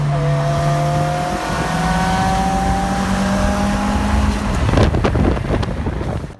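A sleeper Honda Accord racing a Subaru STI on a public road, engines droning and climbing in pitch under heavy wind buffeting, with a loud surge near the end.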